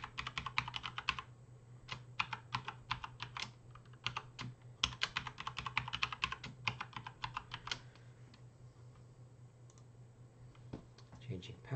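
Rapid clattering keystrokes on a computer keyboard as a password is typed, in uneven bursts of clicks over a steady low hum, close and fairly loud.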